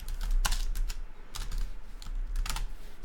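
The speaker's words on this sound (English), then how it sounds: "Just typing in the chat to him." Fingers type quickly on a computer keyboard, a close, busy clatter of keystrokes in bursts with brief pauses, with no voices over it.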